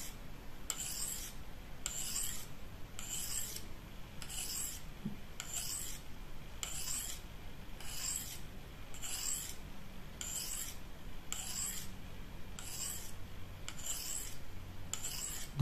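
Knife blade drawn over a fine 8000-grit DMT diamond sharpening stone, giving steady repeated rasping strokes in an even rhythm, close and moderately quiet, with no talking.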